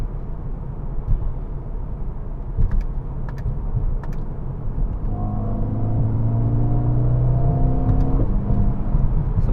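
Engine of a Mercedes-AMG CLA35 4MATIC heard from inside while driving through the gears, a steady loud rumble that rises into a building, rising drone as revs climb, then drops off at a shift.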